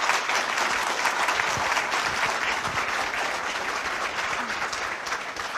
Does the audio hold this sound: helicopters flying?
no